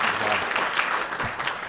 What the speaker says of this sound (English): Please, big round of applause for Colleen.